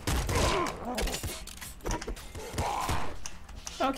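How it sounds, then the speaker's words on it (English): Disc gun firing in the video game Nuclear Throne, a run of sharp metallic shots and clattering impacts over a busy, dense game mix, with no talk. "Okay, disc gun worked out there."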